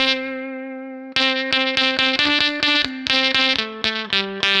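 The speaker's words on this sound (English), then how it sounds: "you also hear the fuzz part just lasts for a very short time" Fuzzy, distorted electric guitar through an Electro-Harmonix Satisfaction Plus fuzz pedal: one sustained note, then a quick run of rapidly picked notes with a buzzy, saturated tone and slight echo; the fuzz lasts only briefly.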